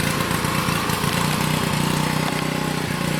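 An engine-powered log splitter runs in a steady, continuous drone with a constant buzzing engine note, close and fairly loud throughout, with no voices.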